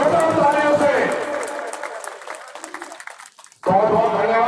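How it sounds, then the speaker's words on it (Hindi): Loud applause from a crowd at a Kshatriya Mahasabha conference in Gumla, Jharkhand, dense clapping that thins and fades out midway, then breaks back in sharply after a short lull. "आप लोगों से आग्रह जोरदार तालियों से उत्साह बढ़ाए, जोरदार तालियों से।"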